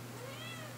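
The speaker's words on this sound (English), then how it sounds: "Oh, you're a sweet little kitty." A cat gives a single short, faint meow, high and slightly wavering, with no other sounds around it.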